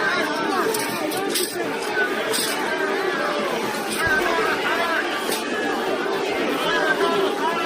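Dense babble of a large outdoor crowd of demonstrators facing police, continuous and steady throughout with scattered faint clinks, many overlapping voices blending into a constant roar.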